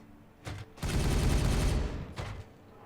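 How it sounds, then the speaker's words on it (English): A burst of rapid gunfire from the Warhammer 40k Regicide video game, a dense roughly one-second volley with a couple of shorter shots before and after it, loud and without speech. "Firing on target."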